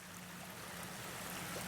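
Creek water flowing and bubbling at night, a soft steady rushing trickle with a faint low hum underneath and no talking.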